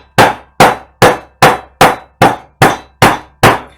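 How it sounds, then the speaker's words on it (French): A hammer beats the edges of a wooden frame to dent and age it, nine loud, close strikes falling in a steady quick rhythm with nothing else heard. "je prends un marteau"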